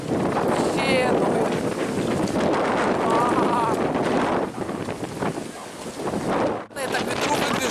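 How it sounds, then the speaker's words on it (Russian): Strong wind buffets the microphone outdoors, a loud continuous roaring rush with gusts throughout, while a person talks underneath. "Смотрите, какой ветер вообще дикий."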